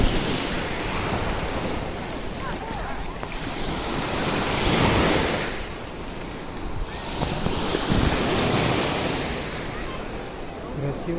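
Surf from the shallow Azov Sea rolls onto the shore near Golubitskaya in steady swells, with wind buffeting the microphone and no voices, the wash rising and falling in slow surges.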